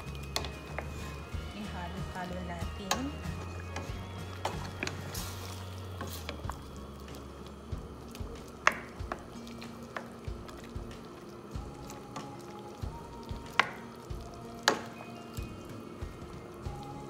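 A pot of pork adobo bubbles and simmers at a low boil with scattered soft pops and drips, while a person talks over it.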